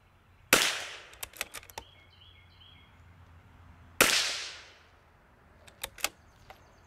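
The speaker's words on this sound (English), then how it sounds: "Let's shoot some groups." A rifle fires 22LR long-range ammunition outdoors in two sharp, loud cracks about three and a half seconds apart, each followed by a brief decay, with fainter clicks and small knocks between them.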